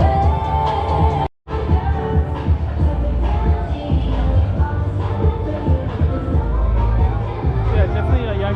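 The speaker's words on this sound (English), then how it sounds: "Crowd." A busy street crowd in Siam Square, Bangkok, fills the air with steady babble and shuffling, with recorded music and youngsters dancing nearby, one brief dropout early on, then a continuous dense hubbub.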